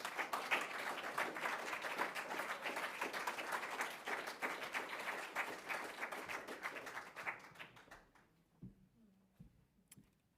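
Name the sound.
audience applause at a conference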